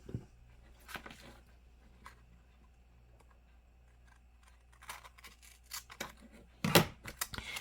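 Scissors cut paper for a bullet journal tip-in with a few quiet, scattered snips and rustles, close by, in an otherwise near-silent room.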